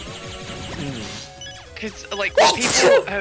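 A person sneezes once, a loud close burst near the end, after a stretch of casual talk that continues around it.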